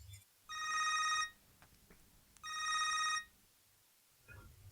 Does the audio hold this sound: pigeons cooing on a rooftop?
no